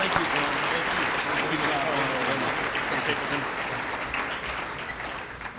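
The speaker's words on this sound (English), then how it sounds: "One more round of applause for our candidates." Steady, loud applause from a forum audience for the 2018 Colorado gubernatorial candidates, dense clapping that holds for several seconds and fades slightly at the end.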